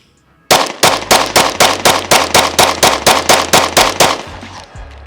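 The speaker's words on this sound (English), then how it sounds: "I'll go mag dump as fast as I can from about 10 yards." A Glock 43X pistol fitted with an Antimatter Industries wing is emptied as fast as possible at about 10 yards: roughly fifteen sharp, loud shots in a steady rapid string, then silence, with no talking.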